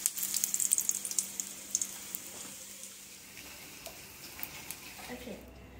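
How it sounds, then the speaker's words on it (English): Banana pancake batter sizzles and crackles in a frying pan, a soft steady hiss with small spitting pops, loudest early and easing toward the end. "pour it in the pan so you could bake to a small little pancake"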